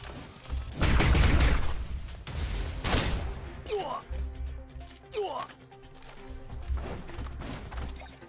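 Shotgun blasts in the video game Snowbreak, loud booming shots with heavy low-end thumps arriving at uneven intervals, mixed with game effects and clattering.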